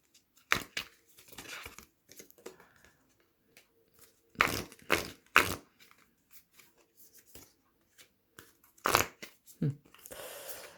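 Oracle cards being shuffled and handled, crisp riffling bursts and papery slides in uneven clusters close by, with quiet gaps between.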